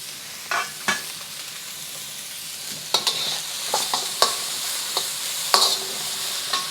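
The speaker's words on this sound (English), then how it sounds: "I'm gonna get our onions in there" Onions for fried rice sizzle steadily in a hot pan, with sharp scrapes and clacks of a utensil stirring at irregular intervals; close and moderately loud, no talking.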